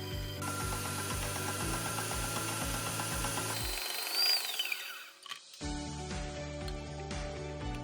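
An electric stand mixer blends butter, cookie butter and vegetable oil, giving a steady, loud motor whir with a rhythmic pulsing. The motor stops briefly partway through, then restarts close by.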